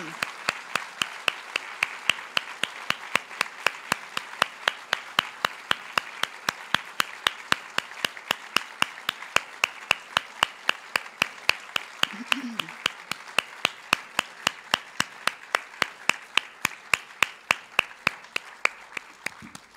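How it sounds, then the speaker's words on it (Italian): Audience applause at a literary evening honoring a Nobel Prize-winning author, steady crowd clapping that carries on for the whole stretch, fairly distant and even, with a faint voice under it. "per il quale vi chiedo un applauso"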